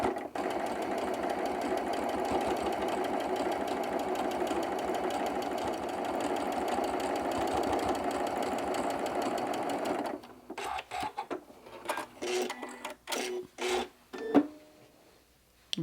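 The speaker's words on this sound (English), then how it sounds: "So here I am at the sewing machine, and I'm just going to stitch right along those lines." Sewing machine stitching along marked lines on crumb fabric pieces for half square triangles, a fast steady mechanical whir for about ten seconds, then a series of short separate bursts as the stitching stops and starts, close and loud.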